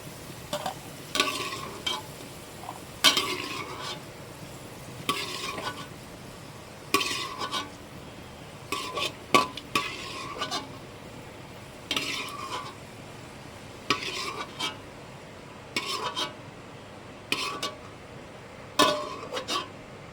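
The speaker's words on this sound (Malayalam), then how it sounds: "അണ്ടിപ്പരിപ്പും മുന്തിരിങ്ങയും മൂത്ത് വന്നിട്ടുണ്ട്. ഇനി അത് നമുക്ക് കോരി മാറ്റാം." Cashews and raisins fried in a pan and scooped out with a metal spoon: repeated scraping and clinking strokes in an irregular rhythm, over a soft, steady sizzle of hot oil.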